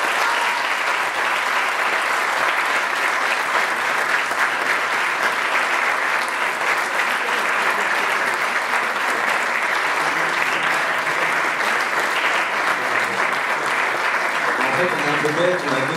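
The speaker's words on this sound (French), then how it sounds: "Je pense qu'on peut les applaudir." An audience applauding a film crew at a book publisher's evening event, dense continuous clapping from a large crowd that stays loud and even for about sixteen seconds.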